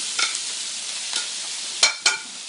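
Meat sears in a hot pan for a curry casserole, a steady hiss with a few sharp sizzling bursts as pieces are stirred or turned.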